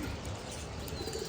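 A male Surma Khaki pigeon coos in a low, muffled rumble, close but faint beneath steady background hiss, with no talking.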